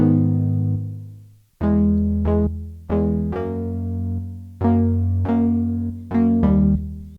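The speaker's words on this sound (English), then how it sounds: "I started by cutting up the MIDI of the pad, just cutting things out, moving things around" Synth pad in chopped chunks: long warm chords broken off and restarted in an uneven rhythm, loud and close, with no voices.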